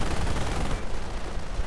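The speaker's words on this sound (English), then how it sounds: "continuing to blast away. Firing away a bit, not really managing to hit anything" Continuous gunfire from a World War II strategy video game, a dense rattling stream of shots that thins out partway through, loud and steady with no voices.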